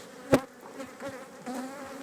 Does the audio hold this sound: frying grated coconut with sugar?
no